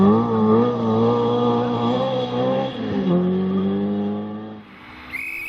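A higher-powered Ford Escort historic rally car pushes hard along a stage, engine roaring loud and close with gear changes and shifting revs, fading slightly before a brief squeal at the end.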